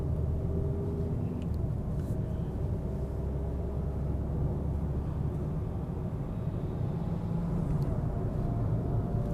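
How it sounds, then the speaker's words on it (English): A Peugeot 3008 with a 1.6-litre four-cylinder engine cruises along the Karak Highway, heard from inside as a steady low cabin rumble of engine and road noise. "we're just starting out from the BHP station and driving the Peugeot 3008 along the Karak Highway"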